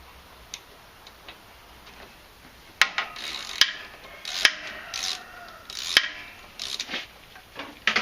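A ratchet breaking loose a 5/8 spark plug on a flooded Craftsman Hydromatic engine: quiet rubbing and clicking, then a burst of sharp ratcheting clicks and scraping metal, close and alone.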